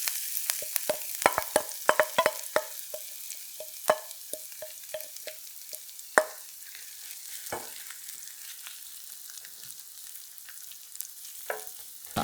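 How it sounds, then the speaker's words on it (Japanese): Okonomiyaki batter spread on an oiled iron griddle gives a steady, close sizzle with a run of light scraping clicks early on that thin out into continuous frying hiss. "油を敷いて生地を広げて"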